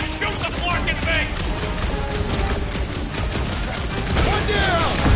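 Dense, continuous gunfire and explosive bursts in the Guardians of the Galaxy video game, loud and busy throughout, with characters' voices talking over the shooting.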